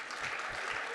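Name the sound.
audience applause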